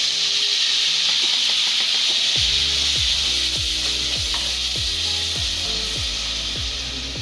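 Tomato paste and green chillies fry in a hot pan for dal palak, a loud steady sizzle and hiss with rhythmic wooden scraping as the mixture is stirred, close and continuous.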